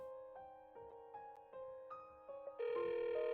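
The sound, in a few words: phone ringing, waiting for pickup in Tears of Themis video game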